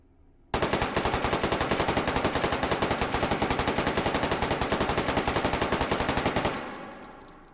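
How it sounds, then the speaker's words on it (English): PP-19 Bizon-2 submachine gun with folded stock fired full-auto in the VR game H3VR, one long rapid burst of evenly spaced sharp shots lasting about six seconds, then a brief fading echo. "Let's do a recoil test. I'm going to start with the stock folded just for laughs"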